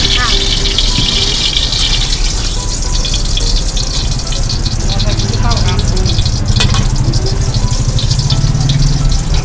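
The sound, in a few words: stir-frying pork fried rice in a street food stall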